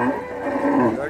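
A cow moos in one drawn-out, low, tonal call lasting about a second. It sounds fairly close and loud against a farm or livestock market background.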